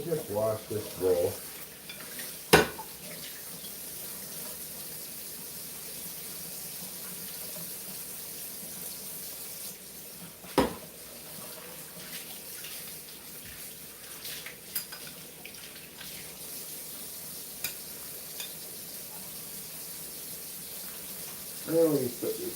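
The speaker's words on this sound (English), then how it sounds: "We'll just wash this bowl." A bowl is washed under a running kitchen tap, a steady close water hiss with occasional clunks and splashes, and some talk.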